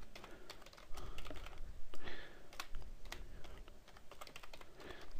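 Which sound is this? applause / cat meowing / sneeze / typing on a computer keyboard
typing on a computer keyboard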